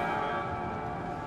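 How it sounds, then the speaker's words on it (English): A bell rung in the video game Layers of Fear 2, a single sustained metallic tone with layered overtones ringing out and slowly decaying over about a second, heard alone. "Ring the bell."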